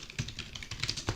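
Quick bursts of typing on a computer keyboard, keys clicking in short irregular runs, close and fairly quiet with no talking over it.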